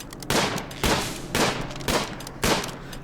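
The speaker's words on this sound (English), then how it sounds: "Taria is shooting turtles." Gunfire in the colony game Rimworld, a colonist shooting at turtles: five loud, evenly spaced bursts of shots, each a sharp blast followed by a short decay, with no talk.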